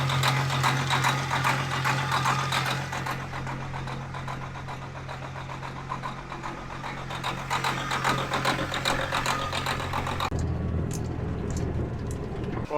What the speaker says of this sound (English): Just the Detroit engine